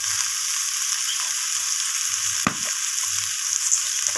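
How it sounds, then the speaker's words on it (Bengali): Bottle gourd mixture sautéing in a pan after salt goes in, giving a steady high sizzle with one sharp scrape of stirring midway and a few soft low knocks, with no talking. "লবণটাকে দিয়ে আমি সব কিছুর সাথে আবারও কষিয়ে নিচ্ছি"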